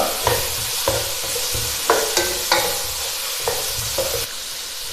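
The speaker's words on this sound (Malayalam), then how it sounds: "ക്യാരറ്റും ചേർത്ത് വഴറ്റിയെടുക്കാം." Small carrot pieces and tomato sautéing in a pan for masala rice: a dense, close sizzle with a series of distinct stirring clacks spaced across the clip, and no voices.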